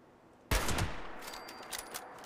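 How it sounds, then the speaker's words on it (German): A single sharp shotgun blast in the game Fallout 76, loud and sudden with a lingering decaying tail, followed by fainter clatter and small metallic ticks. "Ein Schuss, ein Treffer, ein Tod."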